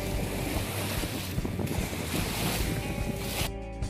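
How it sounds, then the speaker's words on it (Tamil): Waves wash continuously onto a shallow beach near Fort Gratiot Lighthouse with wind, making a loud, steady surf roar close by that cuts off abruptly near the end. "அந்த அலை பார்த்தீங்க அப்படின்னா பயங்கர சவுண்டோடு இருந்தது"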